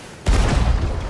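A cannon fires cannonballs in a pirate video game, a single sudden loud boom followed by a rumbling tail that carries on to the end.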